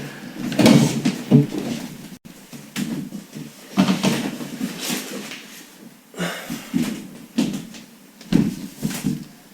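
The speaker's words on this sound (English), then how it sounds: "So I open the drawer from here" A dresser drawer being opened, giving several bursts of wooden sliding and knocking in an uneven rhythm, fairly close and moderately loud, with no talking.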